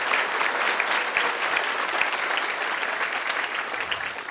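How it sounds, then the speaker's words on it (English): A luncheon crowd at a Michigan governor's event gives a sustained, dense round of applause for the organizers and staff, steady throughout with scattered louder claps. "a round of applause for Mac and Ray and the staff here."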